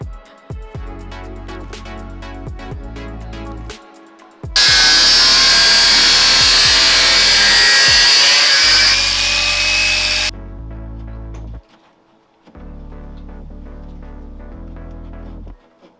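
A power tool cuts into the rear guards of a Land Rover Discovery 1, a loud harsh whine for several seconds between stretches of a lower steady mechanical hum, close and alone with no talking.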